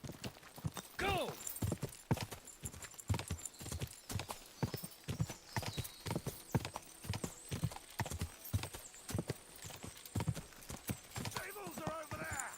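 Horse hooves gallop in the medieval video game Kingdom Come: Deliverance II, a steady rapid drumming of hoofbeats across the whole stretch, with a whinny near the start and brief talk mixed in.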